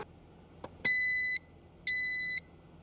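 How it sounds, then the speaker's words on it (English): A KEEROLL door control panel gives two identical electronic beeps, each about half a second long, clearly one after another after a faint click, on exiting programming mode. "the control panel will beep twice and exit programming mode"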